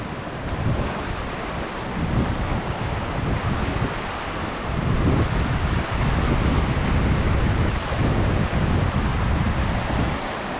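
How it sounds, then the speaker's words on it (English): Fast, swollen Clear Creek rushes past at French Gulch County Park in January 2023. The water makes a loud, continuous roar close by for over ten seconds, and gusts of wind buffet the microphone. "that's fast moving water"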